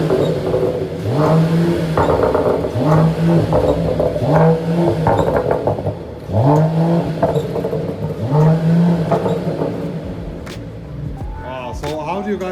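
Mercedes-AMG E53 Convertible engine in Sport Plus mode revving repeatedly, close and loud, with rising and falling pulls and a brief pause before a final burst; a voice briefly speaks in the background.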